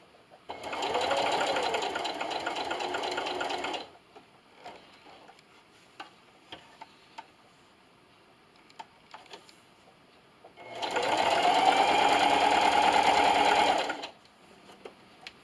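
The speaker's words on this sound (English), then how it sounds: "And then just keep sewing all the way around till you get to your end pin." Sewing machine stitching a cornhole bag seam, running in two loud, steady bursts of about three seconds each. Soft handling clicks and pin sounds fill the quiet gap between the runs.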